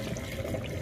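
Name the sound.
draining water in kitchen sink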